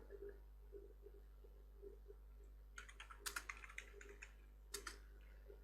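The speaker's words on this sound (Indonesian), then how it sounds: "Setelah itu kita ketikkan IP route lagi" An IP route command typed on a computer keyboard, a quick burst of close key clicks rising over a low steady hum, with faint background murmur before the typing starts.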